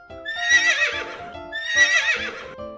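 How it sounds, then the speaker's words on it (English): A horse whinnies twice in a row, each a loud, high, shaky neigh, with soft hoof clops underneath. "The sound of horse is."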